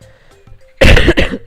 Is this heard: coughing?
yes